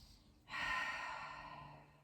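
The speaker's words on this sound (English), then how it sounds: "Start to deepen your breath." One deep, slow breath during a gentle yoga class, a soft airy exhale that swells suddenly and fades gradually, close and quiet with no talking.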